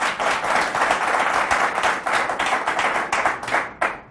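A studio audience at a televised quiz show claps warmly and steadily for a contestant, a dense, close, continuous wash of many hands that holds for about four seconds before thinning near the end.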